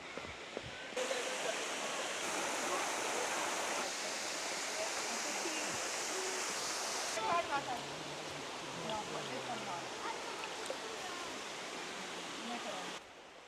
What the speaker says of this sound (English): Waterfall. Oh my gosh.